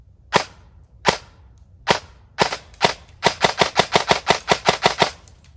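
A KWA BLR airsoft rifle fires 0.28 gram BBs on semi-auto: sharp, loud snapping shots, first spaced about a second apart, then a rapid string of a dozen closely spaced shots.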